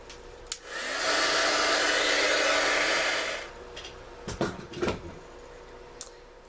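A heat tool blasts steadily to set white embossing powder in a small container, a loud even whoosh for about three seconds before cutting off, followed by a few light clicks and handling knocks.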